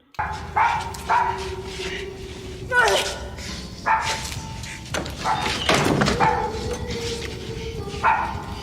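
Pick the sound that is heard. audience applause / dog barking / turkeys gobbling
dog barking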